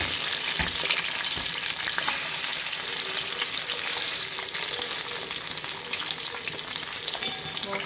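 Fish fries in a pan with a loud, constant sizzling crackle, close up and dense throughout, with occasional sharper pops and spatters.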